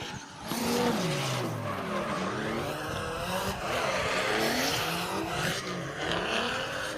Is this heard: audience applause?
no